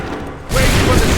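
A musket volley fires in Assassin's Creed 3, a sudden loud broadband blast that cuts in halfway through after a quieter stretch and then holds as a dense, sustained roar of gunfire and rumble.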